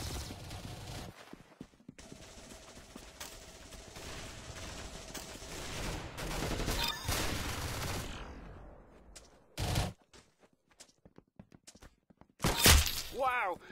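Gunfire in a shooter video game: a long run of rapid automatic bursts gives way to a few sharp, isolated shots and a loud final volley near the end.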